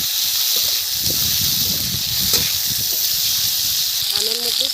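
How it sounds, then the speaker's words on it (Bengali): Mango pieces frying in oil with mustard seeds and dried red chilies, a strong close hissing sizzle throughout, with low voice-like sounds underneath. "আম ভাজা হয়ে গেছে, এখন ডালটা ঢেলে দেবো।"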